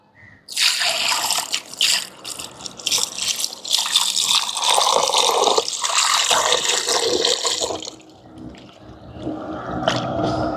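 Water splashes and runs as raw prawns are rinsed by hand, a continuous wet swishing and pouring that eases off toward the end.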